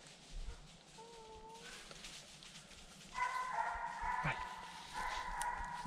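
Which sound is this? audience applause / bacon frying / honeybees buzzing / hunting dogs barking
hunting dogs barking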